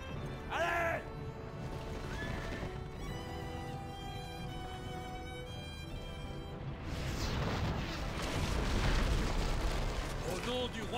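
Catapult rocks strike and blow up during a Battle for Middle-earth II siege. Heavy rumbling crashes and mechanical clatter come alongside swelling orchestral music, with a burst of loud impacts near the end and a voice speaking French.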